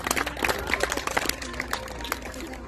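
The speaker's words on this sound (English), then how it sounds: "Give her a round of applause" A small audience at a fair show gives scattered, fairly light clapping, its individual claps clearly separate, with chatter underneath.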